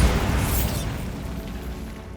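A loud, close Bombarda blasting-spell explosion in Hogwarts Legacy opens with a heavy boom, then a rumbling, crackling roar slowly fades away.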